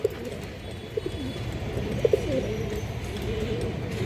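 Colored pigeons in a loft give soft, low, repeated cooing calls, close by over a steady murmuring background with a few brief peaks.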